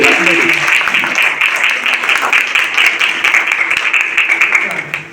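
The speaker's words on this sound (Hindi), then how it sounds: "जोरदार ताली होना चाहिए" Dense, steady applause from a crowd keeps going for several seconds, with voices faintly audible underneath.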